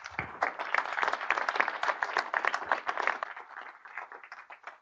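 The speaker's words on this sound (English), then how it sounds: "So everybody give them a round of applause." Audience members at a tech conference session clap for a panel, a moderately distant patter of many hands that gradually thins out and stops.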